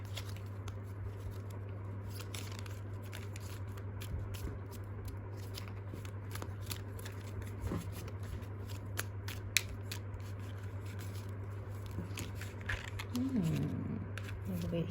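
A deck of playing cards is shuffled by hand: soft, continuous riffling and patter over a steady low electrical hum, with a few sharper clicks and a quiet voice briefly near the end.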